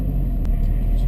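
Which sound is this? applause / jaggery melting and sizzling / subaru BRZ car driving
subaru BRZ car driving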